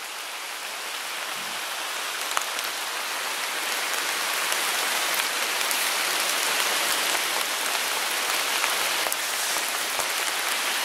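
Steady heavy rain pours down beside a dam reservoir, a dense unbroken hiss of drops on surfaces that grows slightly louder over time, with no voices.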